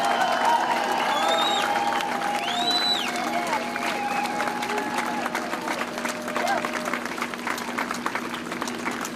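Crowd applause and cheering at a Boston freedom rally marking the 60th anniversary of the 1965 event, with a dense, sustained patter of clapping and scattered whoops and calls throughout.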